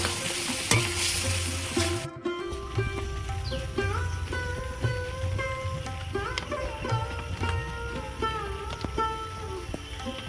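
Shrimp for a Bengali prawn dopiaza sauté in a pan, a steady loud sizzle broken by repeated scraping stirs, with a brief sharp cutoff early on before the frying resumes close and continuous.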